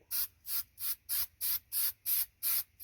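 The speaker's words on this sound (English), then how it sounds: "I should note I'm spraying on this curved upper side." Spray can hissing onto a balsa model helicopter part for a Science Olympiad build, eight short, evenly spaced bursts close by, with no talking.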